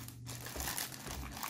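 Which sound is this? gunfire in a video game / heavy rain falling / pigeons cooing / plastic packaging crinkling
plastic packaging crinkling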